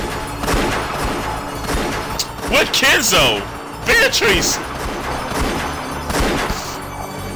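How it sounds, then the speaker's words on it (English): Repeated gunfire from a fusillade in the visual novel Umineko, several sharp bursts mixed with crashes and booms, heard under and between character voices speaking and shouting. "As soon as I heard the sound of repeated gunfire"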